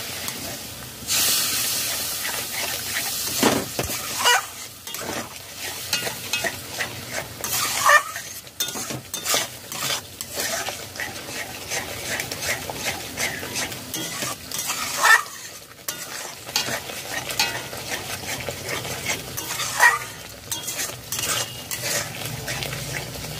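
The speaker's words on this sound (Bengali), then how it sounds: "দু মিনিট কষিয়ে নিয়েছি" Cauliflower and ground spices (cumin-coriander powder, Kashmiri chilli powder, sugar) sauté with a splash of hot water in a pan, hissing and sizzling continuously for over twenty seconds while a spoon stirs and clatters against the pan nearby.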